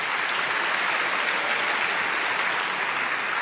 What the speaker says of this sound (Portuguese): Depois do aplauso.